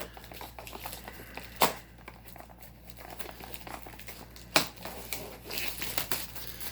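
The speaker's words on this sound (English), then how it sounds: "Take the plastic off." Plastic shrink wrap is torn and peeled off a Death and Return of Superman Blu-ray box set, giving close, soft crinkling with two sharp rips amid continuous rustling.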